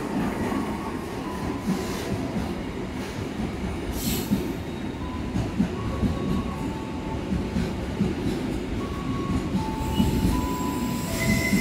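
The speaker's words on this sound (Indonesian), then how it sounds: "lokomotif livery vintage yang berdinas kereta api Singasari, Jakarta Blitar, melintas lewat jalur 6" A locomotive-hauled train rolls steadily past up close through a busy Jakarta station at night, its heavy rumble punctuated by high squealing wheels and brief metallic screeches; no voices.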